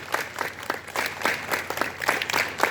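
Students gathered for a school morning assembly clap together in a regular rhythm, each group clap landing roughly every third of a second, moderately loud with a slightly ragged, crowd-like spread.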